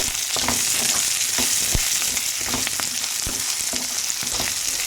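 Curry leaves hit hot oil in a pan while making egg capsicum fry, producing a steady loud sizzle with intermittent sharp crackles and pops throughout, and no voices.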